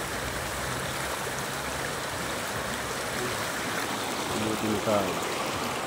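A clear river in the countryside flows steadily, a constant broadband rush of running water, with people talking faintly over it.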